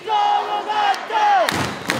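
A packed baseball stadium crowd chants in unison for its team, a dense roar of voices with rhythmic shouts and a few thumps, loud and sustained.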